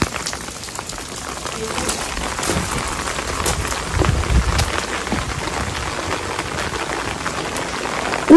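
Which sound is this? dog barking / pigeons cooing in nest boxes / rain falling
rain falling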